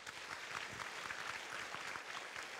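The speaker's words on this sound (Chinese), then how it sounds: "热烈。掌声欢迎何传安先生" Audience applause in a university lecture hall welcoming a trumpet player to the stage, a steady dense wash of many hands clapping at even loudness throughout.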